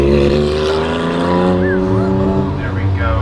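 Pack of time attack race cars at Cadwell Park, loud layered engine drone with rising and falling pitch as they pass, with a commentator talking over it.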